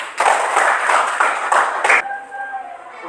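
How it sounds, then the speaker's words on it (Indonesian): Students in an Indonesian math classroom applaud a group after its presentation, a dense burst of many hands clapping together for about two seconds that then cuts off abruptly, leaving a faint sustained voice or tone afterward. "Sekali lagi tepuk tangan"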